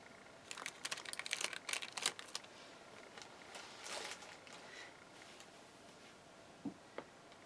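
Plastic sheet pulled out and crinkled during a craft canvas project, a run of close, sharp rustling crackles concentrated early, then scattered quieter crinkles and a couple of isolated ticks near the end.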